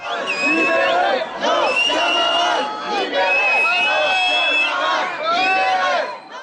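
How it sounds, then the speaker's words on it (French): A protest crowd in Lyon roars and shouts while facing a riot police cordon, a loud, sustained mass of voices swelling in several surges with higher cries standing out. "La foule gronde."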